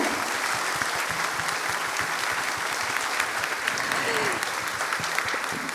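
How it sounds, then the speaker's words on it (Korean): Warm audience applause for a company chairman after a guest lecture, dense sustained clapping filling the hall for several seconds, with faint voices murmuring beneath it. "다시 한번 열강해 주신 우리 회장님 여러분 뜨거운 박수 부탁을 드리겠습니다."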